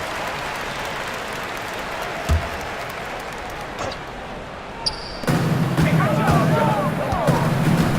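A virtual basketball arena crowd in NBA 2K18, Celtics versus Warriors, cheers with a loud broadband roar that swells sharply past the midpoint. A few court thumps sound beforehand, and voices talk alongside.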